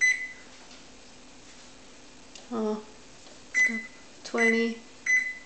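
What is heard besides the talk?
microwave oven running and beeping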